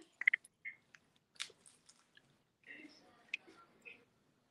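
Someone biting into and chewing a spicy homemade dynamite burger, with a few close, soft crunching and mouth sounds spread through a mostly quiet stretch and brief faint vocal murmurs.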